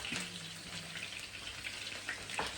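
Onions sizzle in overheated oil, a dense, close hiss peppered with sharp pops and spits that crackle steadily throughout.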